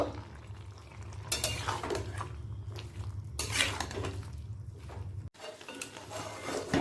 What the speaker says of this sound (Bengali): চিনি আর সর্ষে বাটাটা এবার সবজির সাথে ভালো করে মিশিয়ে নেব